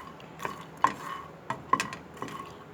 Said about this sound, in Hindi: ये हमने सिर्फ एक मुट्ठी फूल मखाने लेने हैं और इसको हम बगैर ऑयल के भून लेंगे